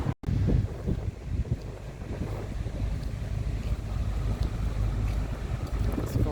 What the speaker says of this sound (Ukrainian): Ото трошки вітряно